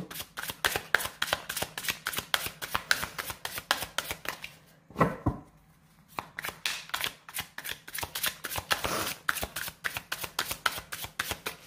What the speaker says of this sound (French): Je vais tirer 3 petites cartes pour vous.